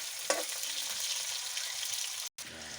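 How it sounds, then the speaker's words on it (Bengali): Cauliflower frying in a pan gives a steady, close sizzle with a continuous hiss. It briefly drops out near the end, then picks up again. "ফুলকপিটা ভাজ"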